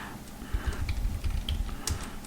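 Fingers tap steadily on a computer keyboard up close, a quick run of soft clicks and clacks with a few louder keystrokes, no talking over it.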